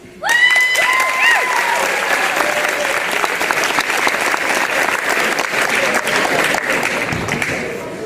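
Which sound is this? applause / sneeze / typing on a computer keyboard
applause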